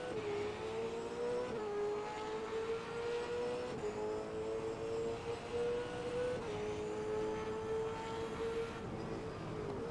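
Onboard engine of a Supercars race car in a sim racing game at Queensland Raceway, a steady droning engine tone held at nearly constant revs with small pitch shifts, no talking over it.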